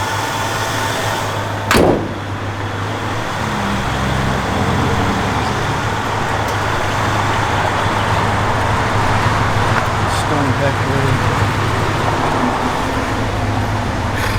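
A 1971 Chevrolet Chevelle SS cranks over with a brief burst of starter noise, then settles into a steady, loud low rumble of idling engine that holds evenly throughout.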